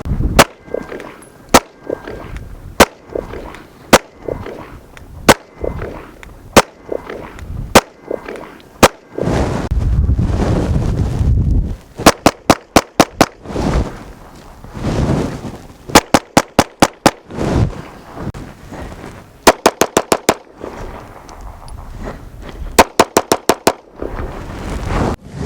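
Shots from a Ruger Magpul RXM pistol, loud and close: sharp single cracks at a steady pace, then a stretch of rumbling handling noise, then fast bursts of rapid-fire shots in quick clusters.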